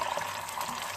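Water pours into a pot of stuffed vine leaves for Turkish yaprak sarma, a steady close splashing rush lasting about a second with no voices.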